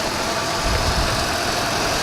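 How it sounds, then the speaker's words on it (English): Old Lincoln on a Fox platform with a 5-liter Ford engine idling high, a steady close mechanical hum with a slight vibration that holds level for a couple of seconds, no voices. "See, 5-liter Ford engine."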